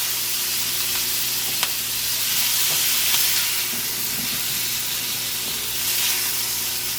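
Small shrimp sizzle and hiss steadily in a smoky, oiled pot, a constant close frying crackle with a faint low hum beneath and no talking.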